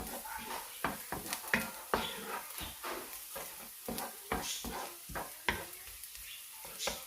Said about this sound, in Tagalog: Stir lang po natin siya hanggang maging okay ang garlic.